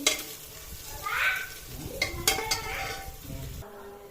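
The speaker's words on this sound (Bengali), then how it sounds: "এর জন্য প্রেসার কুকারে ব্রেস্তাটা ভেজে নিচ্ছি।" Onions fry for kacchi biryani in a pressure cooker, making a close, crackling sizzle broken by scraping stirs and the clink of a metal spoon against the pot.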